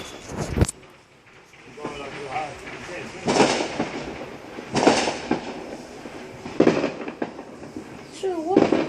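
Fireworks go off outdoors near a home, with several sharp distant bangs and crackles spaced through the scene, and people talking in the foreground between the blasts.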